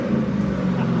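A car engine revs steadily in a home garage during an oil change, a continuous loud drone with a sustained low hum throughout, with no talk over it.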